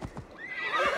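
A horse in Assassin's Creed Valhalla lets out a short whinny, with a couple of soft hoof clops before it, close and fairly quiet.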